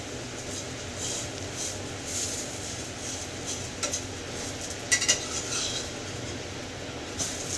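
Eggs fry in a pan in a home kitchen with a soft steady sizzle, while a utensil clinks and scrapes against the pan now and then.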